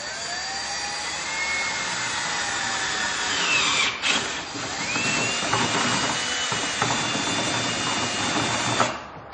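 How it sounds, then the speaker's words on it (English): A power drill bores a 1/2 inch hole through the control panel of a Club Car golf cart, a loud sustained whine that dips briefly midway and cuts off near the end. "we're going to take a 1/2 inch drill bit and drill a hole in the control panel"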